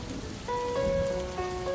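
Steady rain falling and pattering on a surface, presented as a sound effect, with a sustained tonal drone entering partway through and continuing underneath the even hiss of the downpour.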